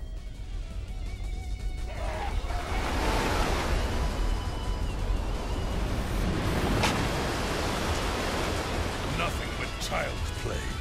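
Rushing flood water pours through a Dynasty Warriors 6 cutscene, a steady loud roar of surging waves and crashing spray that swells and continues throughout, with no voices.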